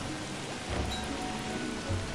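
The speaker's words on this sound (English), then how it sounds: "it's hailing right now" Steady, dense hail patters down in the video game Don't Starve Shipwrecked, a continuous close wash of pelting noise with no voices.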